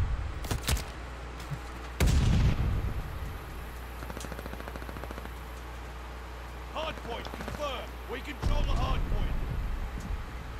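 Bursts of video game gunfire around a hard point, with sharp loud volleys near the start and again near the end and lighter rattling shots between, while a voice speaks intermittently.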